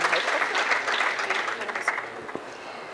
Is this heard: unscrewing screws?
no